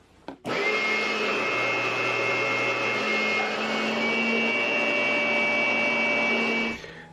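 A small electric leaf-blower-style blower rated around 400 watts starts with a sharp whoosh and runs as a loud, steady whining roar of air for about six seconds, then cuts off.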